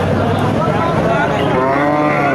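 Cows at a cattle market moo loudly and continuously, deep drawn-out lowing from close by with several animals overlapping.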